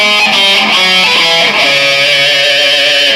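A distorted electric guitar plays a quick run of single notes, climbing and falling through a blues scale, loud and close with no voices.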